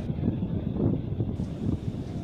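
Wind gusts across the microphone on a sandy beach at Pantai Tlangoh, Tanjung Bumi, Madura, a loud low rumbling buffet that surges and eases over a couple of seconds.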